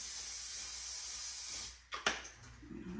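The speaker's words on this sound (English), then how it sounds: "let me get my cooking spray real quick" A close, steady hiss of cooking spray from an aerosol can lasting over a second, then stops, followed by a few clinks and soft handling noises.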